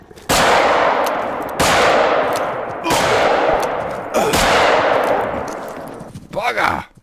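Four loud, close gunshots in theHunter: Call of the Wild, each a sharp crack followed by a long ringing decay, spaced about a second and a half apart, with a brief clattering handling noise near the end.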